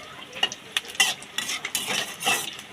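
Chops made from jackfruit seeds frying in very hot oil in a shallow wok, with a soft bubbling sizzle and scattered sharp crackles and spatters, close and fairly quiet, with no voices.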